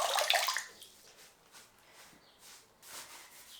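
Plaster walls being washed with a little water, a brief wet scrubbing burst at the start followed by soft intermittent rubbing and wiping sounds, quiet and close.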